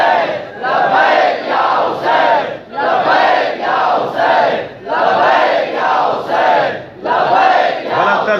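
Large majlis crowd chanting "Labbaik ya Hussain" in unison, loud repeated rhythmic bursts of many voices filling the hall, rising and falling in waves about every second with brief pauses between phrases.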